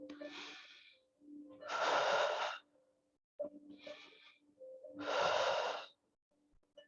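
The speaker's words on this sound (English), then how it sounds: "Just taking some deep breaths here" Slow, deep breaths during a yoga core-strength exercise: two full cycles of a soft inhale followed by a longer, louder exhale, close and alone with no talking.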